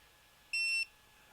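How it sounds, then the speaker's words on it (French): A single short, clear electronic beep from an ARRMA Typhon RC car transmitter as the trim returns to the neutral centre, close and alone against faint background hiss. "Je reviens au milieu, ça fait bip."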